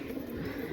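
A Madrasi pigeon coos in a brief, low, throaty murmur, quiet and close, with no voices.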